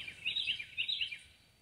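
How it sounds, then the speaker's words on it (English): Birds chirping on a morning outdoors, a run of bright, quick tweets in two bursts that fade toward the end, moderately close over quiet background. "The birds are noisy this morning."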